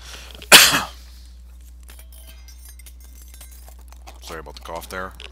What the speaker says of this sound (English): Sorry about the cough there.